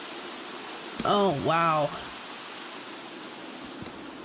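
Heavy rain falling in The Sims 3, a steady, even hiss that fills the whole stretch while a voice briefly exclaims near the start.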